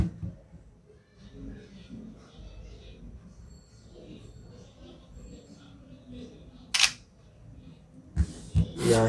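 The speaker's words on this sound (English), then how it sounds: "Yeah, the shutter sound." A soft room murmur gives way to a couple of quick, crisp camera shutter clicks from an OPPO A53 smartphone near the end, close by.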